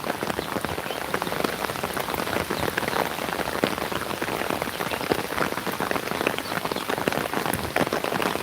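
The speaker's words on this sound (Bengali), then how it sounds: "চমৎকার বৃষ্টি" Heavy rain pours onto the Chiknai river and nearby surfaces, a dense, even patter of countless close drops that holds steady throughout with no talking.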